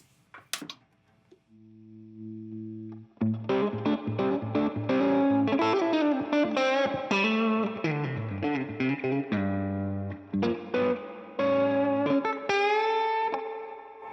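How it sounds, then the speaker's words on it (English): A 1960 Fender Custom Shop Stratocaster plays a quick run of plucked, twangy notes drenched in splashy tank reverb, after a brief soft chord at the start. "This is just a tanked reverb sound."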